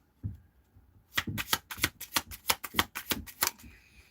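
Tarot cards shuffled in a rapid run of about a dozen crisp riffling bursts, close and fairly loud, after a soft initial rustle, with no talking.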